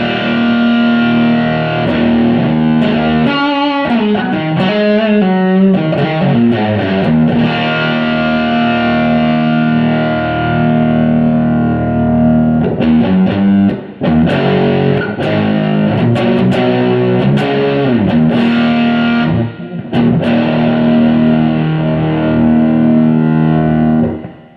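Electric guitar on the bridge pickup through a JHS PG-14 distortion pedal, playing sustained, heavily saturated chords and riffs loud and up close for about twenty-five seconds, with short pauses between phrases and no talking.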